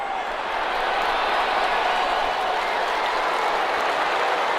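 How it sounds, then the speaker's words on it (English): A large stadium crowd at a football playoff game applauds the defense, a dense, sustained roar of clapping and cheering that stays loud and even throughout. "How about some applause for the defense there?"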